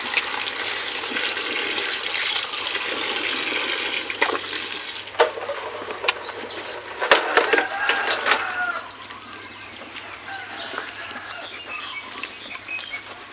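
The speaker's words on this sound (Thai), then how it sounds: "เรามาทำการล้างจาวตาลกันจ้ะ ใช้สกอตไบอันใหม่นะจ๊ะเอามาทู่จ้ะ" A new scouring pad scrubs slimy sugar palm seeds clean, a close, wet, continuous rasping swish with soft knocks, easing into quieter scrubbing near the end.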